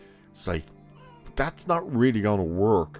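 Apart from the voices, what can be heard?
cat meowing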